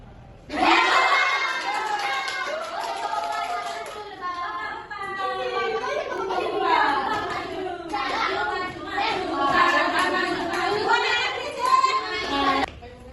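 Noisy group of children in a classroom, many young voices shouting and chattering at once in a continuous, fairly loud babble with occasional taps and claps.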